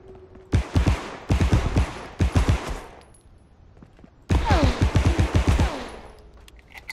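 Handgun in the video game Marauders fired in rapid bursts: two clusters of loud, close shots in quick rhythm, then a short pause before another burst, with faint echo and debris between.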